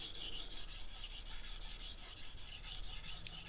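A knife blade is drawn in broad strokes across sandpaper during sharpening, producing a quick, even rhythm of close, crisp rasping swipes, roughly three or four per second.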